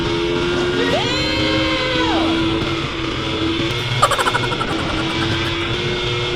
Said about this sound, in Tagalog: Ang sarap ihataw itong motor na to.